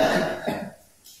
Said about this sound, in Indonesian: yang mana dia itu batuk darah ya